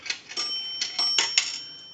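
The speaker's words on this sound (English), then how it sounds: "We're going to use a dime. That'll ring the bell twice." Small metallic clicks and rattles as a dime drops into an Automatic Electric three-slot payphone, then two quick bright bell dings close together, nearby and fairly loud.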